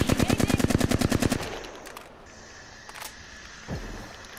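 Rapid automatic gunfire in a squad-based shooter video game, a dense burst of about a dozen evenly spaced shots for just over a second, followed by quieter scattered game effects and a distant thud.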